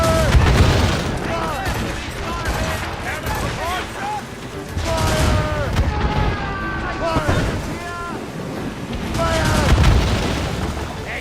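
Ship cannons fire in Assassin's Creed Rogue during a naval battle, giving deep booms and rumbling volleys. Crew members shout orders loudly over the heavy, repeated blasts.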